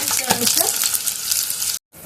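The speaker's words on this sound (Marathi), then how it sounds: "अशा प्रकारे आपण लसूण तळून घेऊया" Garlic crackles in hot frying oil for Mumbai-style vada pav, a close, dense sizzle with stirring that cuts off to brief silence near the end before resuming.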